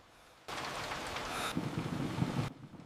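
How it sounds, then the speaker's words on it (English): Pouring rain starts abruptly, a steady, loud hiss of heavy downpour that runs for about two seconds with some low rumbling, then cuts off. "Days stretched into endless nights of pouring rain."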